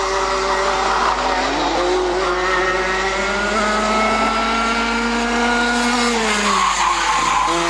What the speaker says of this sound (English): S's comes Benjamin, and up through the S's come the two Minimaxes, and then down again towards the pit bend of turn 7 into the chicane of turn 8